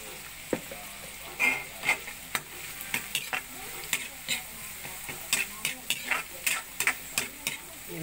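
Garlic and onion sautéing with pepper in a pan, a steady sizzle under repeated sharp scrapes and taps of a utensil stirring, close by.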